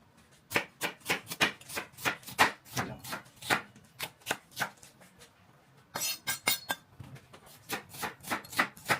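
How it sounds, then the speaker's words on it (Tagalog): A knife chops onion on a cutting board in steady, evenly spaced crisp strokes, close and clear, with a quicker run of cuts partway through. "maghiwa na rin tayo ng sibuyas"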